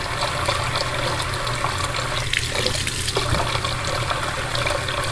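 Hot water running from a tap into a sink, a steady hissing stream that pours continuously and close by with no voices over it.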